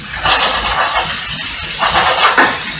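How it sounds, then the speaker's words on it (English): Apple steaming in a pan with herbs, onions and bacon on a switched-off hob, a steady loud hiss with gentle bubbling swells throughout. "literally just letting that apple steam in with the herbs and the onions"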